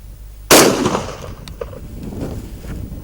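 A Dickinson Arms T1000 straight-pull tactical shotgun fires one Ely 36 gram 4-shot load outdoors, a single loud close blast that cracks sharply and then fades into a short echoing tail.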